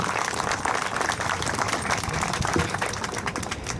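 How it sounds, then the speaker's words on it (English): A crowd applauds at the outdoor dedication of a revitalized monument, with dense, steady clapping throughout that stays fairly loud and even. "Let's give everybody involved a round of applause."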